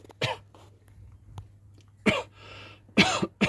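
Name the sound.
coughing after inhaling stone chip paint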